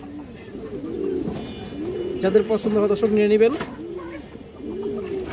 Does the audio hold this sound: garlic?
no